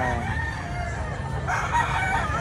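A rooster crows at a chicken sale in Lipa, Batangas, one drawn-out crow rising over a busy murmur of background noise, fairly close and clear.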